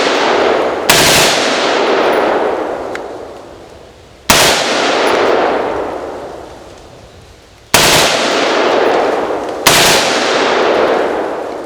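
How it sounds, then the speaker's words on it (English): An AR-15 fitted with a Slide Fire stock rips off four loud bursts of rapid fire at a watermelon outdoors, each burst striking hard and trailing into a long fading roar. "you can't do a rapid fire video without shooting up a watermelon"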